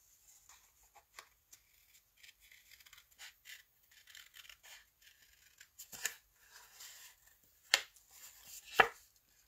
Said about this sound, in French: Donc là, ce que je vais faire, c'est que je vais découper grosso modo.